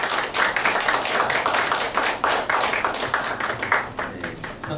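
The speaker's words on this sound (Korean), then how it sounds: "박수 부탁드리겠습니다" An audience claps at a Korean traditional music awards ceremony in a small community hall theater, steady dense applause of many hands, close and loud, fading slightly toward the end.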